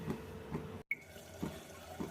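Water poured over bitter gourd in a cooking pan, a steady close hiss of flowing liquid lasting about two seconds with a brief break partway through.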